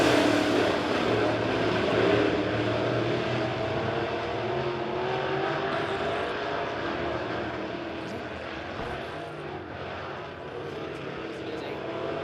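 B-Modified race cars at Springfield Raceway, a loud sustained roar of engines that swells and slowly fades as the pack passes, with a commentator talking over it throughout.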